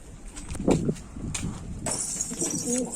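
Elvan pigeons coo softly inside a coop, with a few low coos mixed with shuffling, faint bumps and rustling close by.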